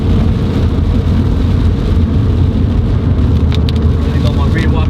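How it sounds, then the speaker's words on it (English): Heavy rain drumming steadily on the outside of a Nissan Silvia while it drives, mixed with a constant low road and engine rumble heard from inside the cabin, with a few brief higher ticks near the end. "But the rain's really picked up now."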